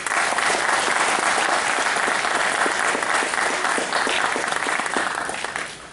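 A theatre audience at a progressive rock concert in São Paulo applauds a band member, loud dense clapping sustained throughout and tapering slightly at the end.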